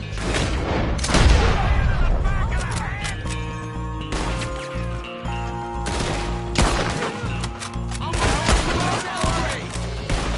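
Gunfire shootout in Red Dead Redemption 2, a town battle around a gun store, with bursts of shots and booms layered over game music and effects, loud and continuous throughout.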